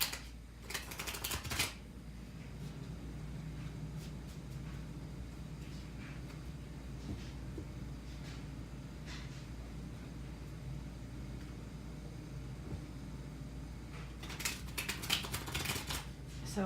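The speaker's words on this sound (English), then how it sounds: "shuffling this deck" Tarot cards are shuffled by hand in short riffling bursts near the start and again near the end, quiet and close, with a faint low hum between.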